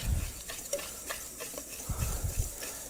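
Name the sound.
mixing coffee cake crumb topping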